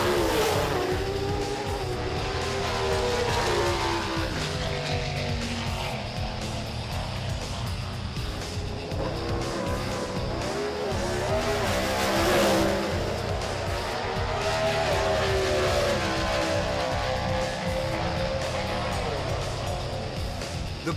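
Drag racing cars at Sydney Dragway roar and accelerate hard in a sustained, loud engine drone, with revving surges and tire noise throughout, partly under a commentator's voice.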